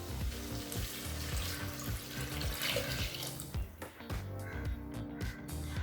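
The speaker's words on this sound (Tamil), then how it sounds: "இப்போ அடுத்தது தேங்காய் பால் சேர்த்துக்கலாம்." Coconut milk pours into a cooking pot over sautéed tomatoes with a steady liquid rush and a faint sizzle, close and continuous for several seconds, easing toward the end.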